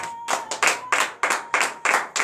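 A church congregation at morning prayer in Benin claps in acclamation, steady loud rhythmic claps about every third of a second, close and without talk.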